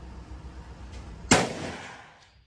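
A single sharp rifle shot fired with Greek ammunition at the Riverbend Gun Club cracks out loud and close, its tail fading over about a second.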